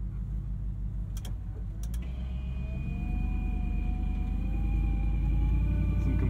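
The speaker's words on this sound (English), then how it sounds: "Some complaints from the power steering" Velocity Classics Bronco with power steering groaning during a tight turn, a rising whine that climbs steadily over the low engine rumble, with a few sharp clicks near the start, close inside the cabin.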